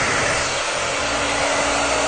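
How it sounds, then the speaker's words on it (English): A handheld hair dryer blows steadily at close range while a woman styles teased 1980s-style hair with hairspray, a loud continuous whoosh with a faint motor hum and no talking. "Hairspray, dryer. Gotta do it fast."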